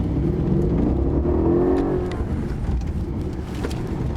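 A Mercedes CLS63 AMG works through a slalom, its engine note rising and falling with on-off throttle, heard from inside the car, steady and fairly loud.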